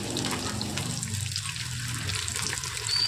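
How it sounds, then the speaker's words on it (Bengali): Potato pieces hitting hot oil in a wok produce a steady, loud hiss of frying that holds constant for the whole moment, with no voices over it. "গরম তেলের মধ্যে আমি আলু দিলাম"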